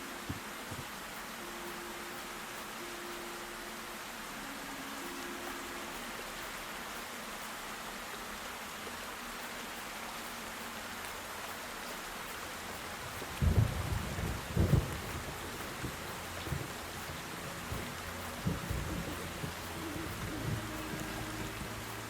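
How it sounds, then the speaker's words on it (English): Steady rain hiss runs throughout a stormy scene in the video game Black Mirror 3, with a loud, rumbling thunder crash around the middle followed by fainter rolling rumbles as the downpour continues. "Rain, rain, go away."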